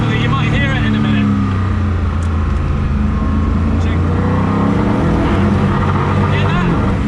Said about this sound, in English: It's like a sort of grinding. That's traction control, it's not engine.